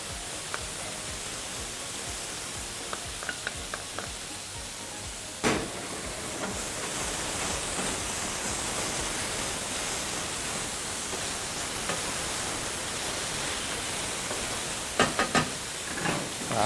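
Chopped garlic goes into beef liver frying in a pan, producing a steady broad hiss of sizzling with a few sharp clicks and knocks, no talking.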